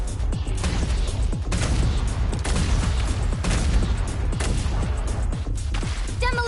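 Dense bursts of gunfire and explosive blasts from a Genshin Impact fight rattle continuously at loud volume, rapid overlapping shots forming a constant barrage.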